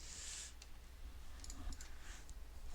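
Faint clicky computer keyboard typing during an online game draft, scattered light key taps at low level against a quiet background.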